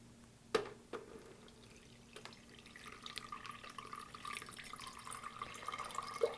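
Clear water trickles and pours through a coffee filter and strainer set in a canning funnel, a faint, steady liquid stream that grows slightly fuller over several seconds, with a couple of small drips and knocks near the start.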